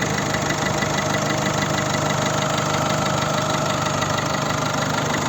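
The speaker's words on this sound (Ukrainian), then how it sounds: "Дуже класно, рівно тихо працює двигун." A 2010 Peugeot 3008 with a 1.6 HDi diesel engine and automatic gearbox idles with a steady, even, close-up clatter and hum that holds unchanged throughout, with no voices.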